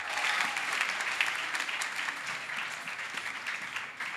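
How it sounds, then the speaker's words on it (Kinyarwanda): A church congregation applauds at length after an evangelist's testimony, steady dense clapping from many hands filling the room, with no speech over it. "Evangeliste Solange tumukomera amashyi menshi"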